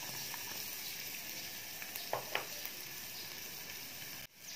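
Chopped garlic and ginger fry in cooking oil with a steady, faint hiss, broken by a few small crackles and a soft scrape near the end.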